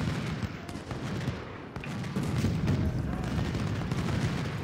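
Cannon fire from two guns in an Ultimate General: Civil War battle, heavy booming gunfire rumbling continuously with dense low-end blasts and crackle throughout, no clear gaps between shots.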